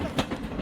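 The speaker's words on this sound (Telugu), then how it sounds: "ట్రైన్ స్టార్ట్ అయింది" A passenger train starts to move, its wheels giving a few rhythmic, moderately loud clacks over a steady rumble.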